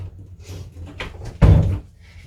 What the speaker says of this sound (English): I'll just close the door to here